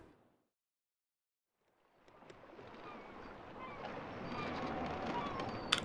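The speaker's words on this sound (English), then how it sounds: "Kind of sounds like and feels like we're on a boat." Quiet at first, then a steady wash of water and engine-like rumble builds and holds, with a sharp knock near the end, like a boat moving through water in the video game Eastshade.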